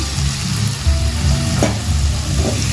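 Pre-fried potatoes and pointed gourd sizzle loudly in a spice paste in a pan, a dense continuous crackle with a low rumble beneath and a brief utensil scrape midway, no talking.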